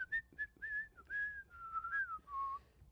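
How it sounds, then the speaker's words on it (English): A person whistles a tune alone and close by, a string of short and held melodic notes rising and falling in a relaxed, wandering melody. "I whistle in the press box a lot"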